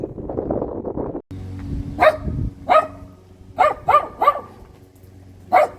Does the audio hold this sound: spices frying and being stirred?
no